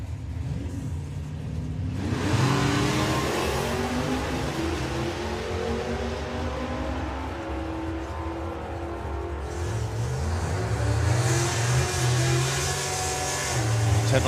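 Drag race cars, including a Chevy, roar off the line at a sportsman nationals strip, a loud rising engine howl that builds and holds, then a second surge of revving follows, heard from trackside.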